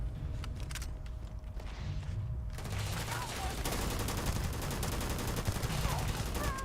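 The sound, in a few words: gunfire in the video game Starfield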